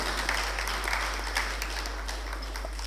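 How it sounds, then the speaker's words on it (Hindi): An audience at a light and sound programme about Ghalib applauds while a bouquet is presented, a continuous patter of many hands clapping at moderate distance, fairly soft and even throughout. "आप लोग भी तालियों से इस गुलदस्ते में शामिल हों"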